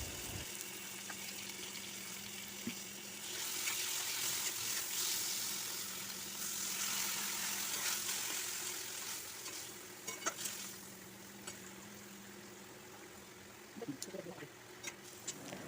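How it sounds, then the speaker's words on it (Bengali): Fried potol and poppy seed paste with a little water are stirred in a kadai, giving a steady close hiss with scraping, soft clatter and a few sharper clicks near the end. "এবার পোস্ত বাটাটা কড়াইতে দিয়ে হালকা জল দিয়ে পুরোটা আমি নেড়ে নেব।"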